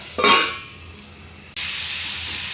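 Hyacinth bean pods cooking in a covered pan: a brief hissing burst, then a quieter lull, then a steady, even steam hiss that continues to the end.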